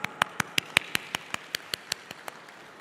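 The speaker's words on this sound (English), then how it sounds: "Let's give them a clap." Sparse handclaps at a freight forwarders conference: about a dozen crisp, evenly spaced claps from only a few hands, growing fainter toward the end, with no voices.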